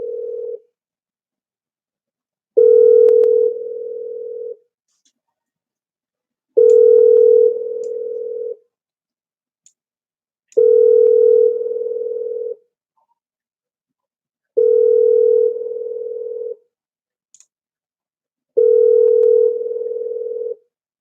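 A telephone ringback tone while calling someone: a plain, steady tone lasting about two seconds repeats six times at even four-second intervals, with silence between and no voices.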